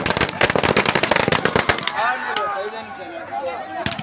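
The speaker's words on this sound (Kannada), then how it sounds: "ಪಟಾಕಿ ಹೊಡೆಯೋದೇ ದೀಪಾವಳಿ" Firecrackers burst in a village during Deepavali celebrations, a rapid crackling string of loud, close pops for about two seconds, then scattered single bangs while voices talk over the fading noise.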